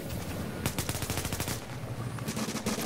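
A deployed turret in a shooter game fires a rapid, steady burst of machine-gun shots, loud and close, over a busy background. A second short burst follows near the end.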